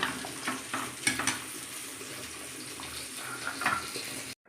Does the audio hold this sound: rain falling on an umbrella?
no